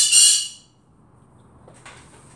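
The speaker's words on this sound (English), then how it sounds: "He's a little bird, but he can be really loud." A small pet bird lets out a loud, shrill squawk up close, then a quieter, brief chirp follows after a pause of near silence.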